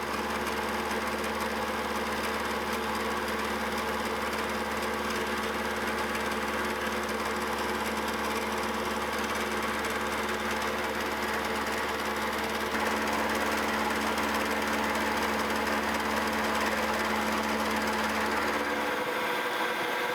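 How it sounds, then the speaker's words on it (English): Milling machine climb milling a metal shear knife in a fixture, giving a steady, loud, continuous motor hum and cutting drone with a slight shift in tone partway through, then a brief change at the end. "We're climb milling here, which basically means that the cutter is feeding into it kind of in, backwards"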